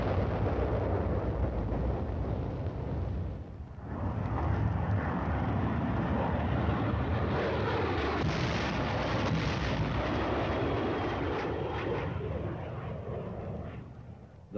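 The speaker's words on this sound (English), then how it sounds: "The deadly napalm is dropped in a veritable blanket of destruction over the enemy's position." Napalm dropped from aircraft onto dug-in enemy positions during 1950s US Army armored combat training, a continuous loud roar of fire and explosions with a brief dip before the rumble swells again.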